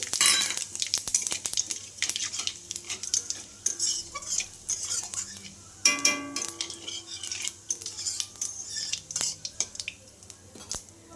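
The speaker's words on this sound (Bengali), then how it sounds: "ওই তেলেই আমি একটু তেজপাতা আর জিরে ফোড়নে দিয়ে দিচ্ছি" Bay leaves and cumin seeds tempering in hot oil left from frying fish, with a steady close sizzle broken by clinks and scrapes of a utensil against the pan throughout.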